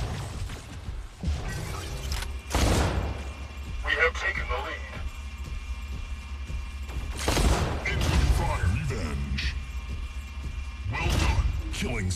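Weapons fire in the mech combat game Mech Arena, with loud booming blasts and thuds and clanking mechanical noises in irregular bursts, under an announcer's voice speaking.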